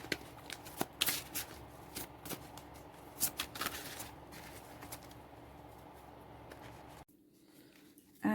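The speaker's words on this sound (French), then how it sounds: "il va falloir que je mélange bien les cartes" Tarot cards of the fairy deck being shuffled by hand, a run of soft riffling bursts and flicks, close and quiet, stopping briefly near the end.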